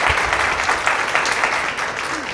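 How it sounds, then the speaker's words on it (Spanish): An audience at a congress talk applauds for a participant named Nelson, with brisk, steady clapping from a room full of people throughout the brief moment. "Un aplauso para Nelson, por favor."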